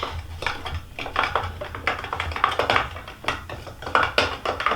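A spoon stirring a turmeric face mask paste in a small bowl, with repeated soft scraping and clinking strokes in an irregular rhythm, close and fairly quiet, with no talking.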